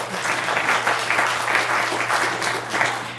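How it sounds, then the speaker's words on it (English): A radio show's audience applauds a young lady, dense, even clapping filling the whole stretch with gentle swells, moderately loud and close. "Let's give her a very big round of applause."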